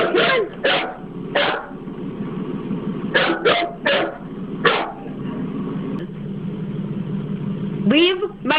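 A pet dog named Smooch gives several short barks and yelps, fairly close, with a longer whining yelp near the end, while a person talks over and between the sounds.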